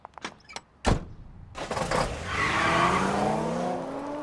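A stolen truck in a video game starts up: a door clunk and a few knocks, then the engine revs and rises into a sustained, loud drone as it pulls away, with no talking.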